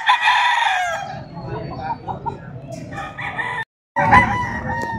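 Roosters crow loudly and close by among clucking chickens at the Padre Garcia Livestock Auction Market, with someone talking between calls and another crow cutting in near the end.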